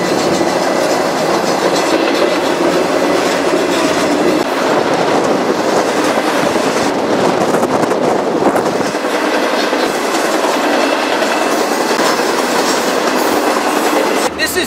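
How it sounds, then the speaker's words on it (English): A Tropicana orange juice freight train rumbles past on a southbound main line near Waycross, loud and continuous, with steady clickety-clack of wagon wheels and faint squeal throughout. "I've heard about this train, and here it is."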